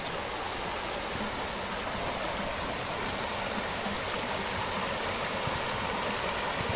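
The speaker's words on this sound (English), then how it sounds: "Okay, there's a stream." A stream flowing through a wooded park gives a steady, even rush of water that holds unchanged from start to end, with no voices over it.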